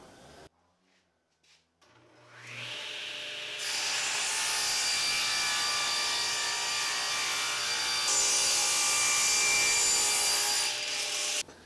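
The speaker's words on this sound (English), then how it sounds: "I'm going to cut it long, turn it around, and trim it." Wood for an antique-style octagon window is trimmed on a power saw: brief handling knocks, then a sustained high whining cut that holds steady for about eight seconds before stopping abruptly.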